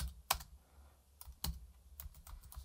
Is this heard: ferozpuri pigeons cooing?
no